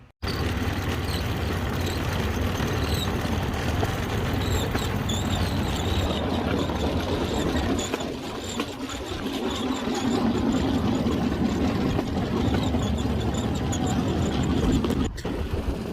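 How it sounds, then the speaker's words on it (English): A moped engine runs continuously at a steady mid-pitched drone on a ride to the bamboo train, fairly close and unbroken for the whole stretch with a brief dip midway, no talk over it. "we jumped back on the moped and went over to the bamboo train"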